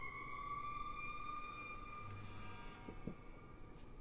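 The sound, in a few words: sirens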